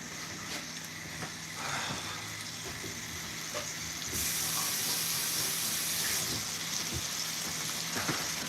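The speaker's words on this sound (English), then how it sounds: "Don't you hear that sizzle?" Chicken sizzles and crackles steadily in a hot frying pan, close up, a continuous hiss that grows a little louder partway through as the heat is turned up.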